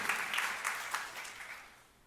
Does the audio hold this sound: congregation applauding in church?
yes